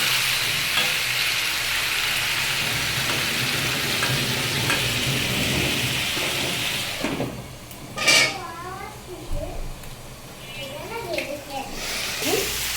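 Water spinach with sweet pumpkin and potato being sautéed in a pan: a steady broadband sizzle with stirring for about seven seconds, then the frying fades and scattered voice-like sounds appear over a quieter background.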